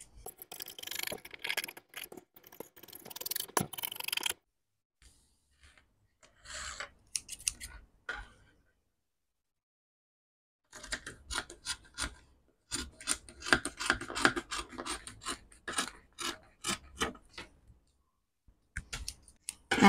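Scissors cutting out a paper sewing pattern for a cowl-neck jumpsuit, close crisp snips and rasping blade strokes in several bursts separated by silent pauses.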